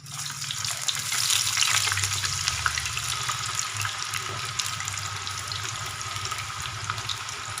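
Potatoes fry in a pan with a continuous, even sizzling hiss and faint scattered crackles, close and steady throughout, with a brief swell early on and no voices.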